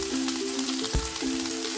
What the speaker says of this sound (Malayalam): ഇതിലേക്ക് ഇഞ്ചിയും വെളുത്തുള്ളിയും ചതച്ചത് കൂടി ഇട്ട് കൊടുക്കാം